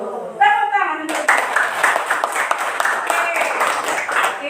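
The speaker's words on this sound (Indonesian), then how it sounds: "Tepuk tangan untuk" A classroom group claps hands together right after a voice speaks briefly at the start, producing a burst of quick, fairly close claps that keeps going to the end.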